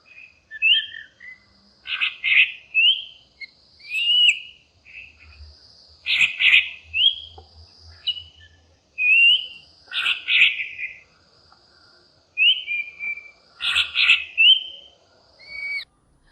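A black drongo (kotwal) of Western Ghats bamboo and deciduous forest gives bold, ringing calls in repeated short bursts of several notes, spaced every couple of seconds, clear and close against a quiet background.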